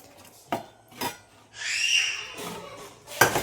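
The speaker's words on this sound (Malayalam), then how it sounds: "നമുക്ക് ചൂടുവെള്ളം ഒഴിച്ചിട്ട് ഒന്ന് ഇളക്കിയെടുക്കാം." A spoon stirs a snack mixture in a vessel after hot water is poured in, giving a few distinct clinks against the pot and a brief hiss of pouring water, close and without talk.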